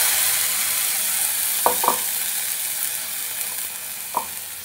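Ginger garlic paste sizzles in a pan, with tomato paste going in. A steady, moderate hiss of frying carries throughout, broken by a few soft stirring clicks.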